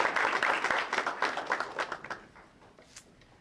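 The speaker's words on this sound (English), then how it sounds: "Let's give Rochelle another round of applause." Audience applause at a university presidential portrait unveiling ceremony, a loud burst of many hands clapping that gradually thins out and fades to scattered claps.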